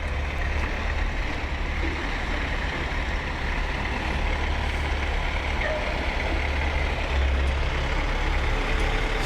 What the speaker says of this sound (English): Truck moving back down through here.